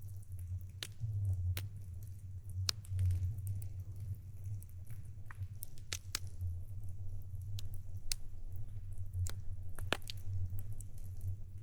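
Quiet winter lakeside ambience with scattered sharp ticks, pops and drips from the lake over a low steady rumble, water sounds close by and nobody talking.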